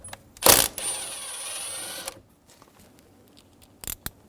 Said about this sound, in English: I'm going to use a 10mm socket and remove the bolt.